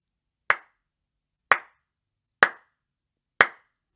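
A slow clap from a single person: four sharp, close handclaps spaced evenly about a second apart, each ringing briefly in an otherwise silent room.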